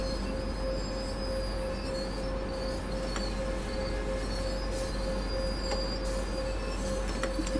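A BR 145 electric locomotive in a train simulator game braking on a main line, with a steady low rumble of wheels on track, a sustained tonal whine and faint squeals and clicks throughout, no voices.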